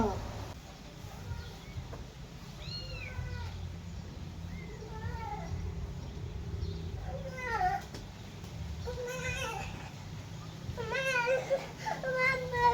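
A kitten gives repeated high, wavering meows in short bursts of several calls, close and fairly clear, with people talking and a steady low background hum throughout.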